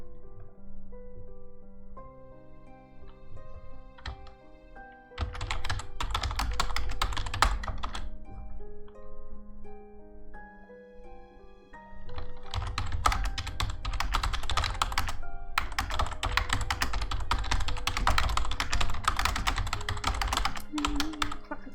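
Rapid clacking keystrokes on a computer keyboard come in dense bursts, loud and close, over faint background music, with pauses between stretches of typing.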